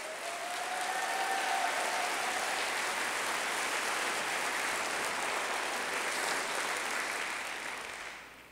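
An audience at a State of the City address gives a big round of applause for the city's employees, a full, even burst of clapping that swells quickly, holds for several seconds and tapers off.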